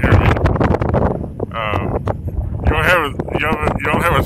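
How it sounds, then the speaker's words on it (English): Strong outdoor wind gusts buffet a microphone in a loud, continuous rumble while someone talks over it close up. "you might be able to be picking up some wind. It's pretty windy right now."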